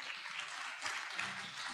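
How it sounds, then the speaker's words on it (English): Audience at an accelerator demo day applauds a speaker taking the stage, a moderate, fairly distant patter of clapping that stays even and unbroken throughout. "You can applaud him."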